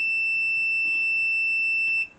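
A Draper DMM300 automotive multimeter in continuity mode gives a steady, high-pitched electronic beep that holds for about two seconds and then cuts off, close and clear with no talking.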